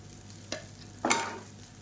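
Idli pieces tossed with idli podi in ghee in a pan, two short scraping stirs over a soft background sizzle, no speech.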